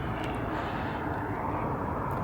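An airplane flying overhead makes a continuous, even rushing roar that stays level throughout, with no clear voices over it.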